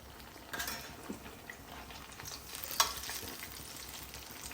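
Banana fritters (pazhampori) frying in oil make a soft, steady sizzle with occasional stirring and utensil clinks, fairly quiet and close, with no talk.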